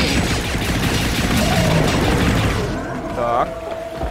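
Gunfire and blasts fill a We Happy Few game session with dense, loud bursts of shooting, while someone talks over the action.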